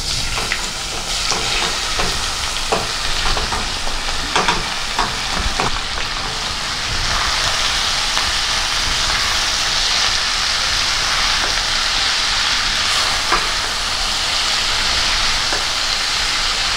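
Green beans (chikkudukaya) frying in a pan with garlic and spices, a steady broadband sizzle and crackle throughout, with scattered sharper pops and stirring scrapes, loud and close with no talking.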